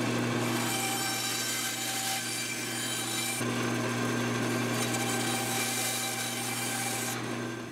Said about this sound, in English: Now, over to the bandsaw.